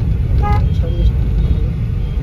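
Traffic at the Gokarna bus stop: a low, constant engine rumble with two short car horn toots early on, and no other sounds standing out.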